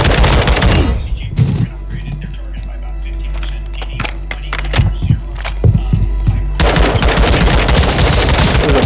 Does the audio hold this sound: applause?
no